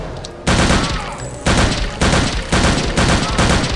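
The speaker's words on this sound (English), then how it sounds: "Those snipers are firing very fucking accurately" Sniper rifles fire in a video game in loud, sharp bursts, a quick run of shots repeating roughly every half second and close up.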